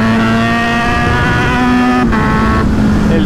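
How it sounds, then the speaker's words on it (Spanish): A Kawasaki Z900 four-cylinder motorcycle engine revs loudly and close by, holding a steady, sustained high-pitched drone with slight pitch shifts. "como suena esa moto"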